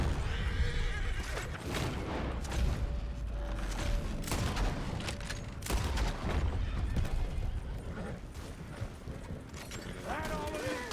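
Red Dead Redemption 2 gameplay with a horse whinnying, hooves clopping and bursts of gunfire, all busy and layered over a dense in-game soundscape.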